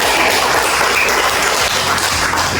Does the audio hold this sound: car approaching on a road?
no